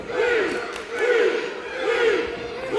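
Wrestling crowd chanting and shouting in unison at a live show, rising and falling in three rhythmic waves, loud and close, with whoops and cheers mixed in.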